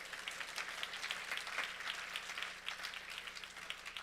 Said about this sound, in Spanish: Y darle un aplauso al Señor